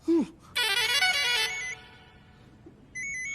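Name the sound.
telephone ringing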